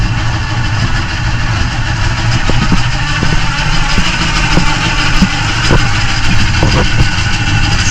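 A 1964 Pontiac Bonneville convertible with a 326 engine and four-speed idles nearby, a loud steady rumble with an even low throb and a faint whine running throughout, no voices.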